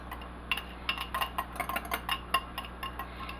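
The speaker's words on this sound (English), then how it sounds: "we're just going to mix it together" A spoon clinks and scrapes in a bowl while Jiffy cornbread batter is mixed, in a steady series of light taps and scrapes at close range with no talk.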